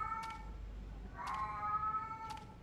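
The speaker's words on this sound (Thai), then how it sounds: "มีเสียงแมวอ่ะท่านผู้ชม" A cat meows three times in the horror video game Tsugunohi, drawn-out plaintive calls spaced about a second apart over a quiet, faint background.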